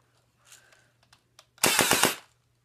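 A Mini AK-47 rifle fires one loud fully automatic burst of about five rapid shots, preceded by a few faint handling clicks, with a low hum underneath and no talking.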